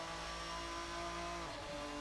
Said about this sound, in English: this car sounds like it's turbocharged to me